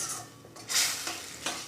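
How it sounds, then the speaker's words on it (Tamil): A spoon stirs garlic kuzhambu in a pot, with a few soft scraping and clinking strokes against the pan over a faint sizzle, close but quiet, with no talking. "நல்லா கலக்கி விட்டுட்டே இருங்க, இல்லைன்னா அடி பிடிச்சிக்கும்."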